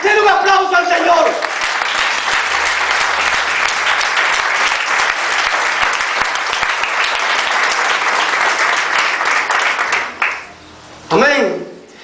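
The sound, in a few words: congregation applauding in church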